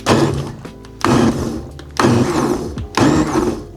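A loud blender-like machine with a whirring blade pulps egg cartons for papermaking in four short bursts, each about a second long, with brief pauses between them.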